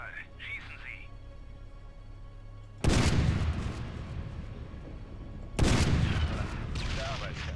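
Two heavy gunshot blasts fire in Splinter Cell: Double Agent, each a loud, sudden burst with a long rumbling tail, about three seconds apart, after a quiet stretch with faint voice sounds.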